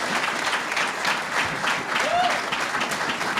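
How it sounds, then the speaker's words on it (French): Applause at a political campaign launch event, a full room of people clapping steadily and evenly at close range, with a faint whistle cutting through briefly. "Une bonne main d'applaudissements"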